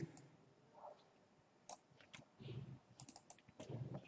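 Typing code on a computer keyboard, a steady run of quick, close key clicks in bursts with short pauses, no talking.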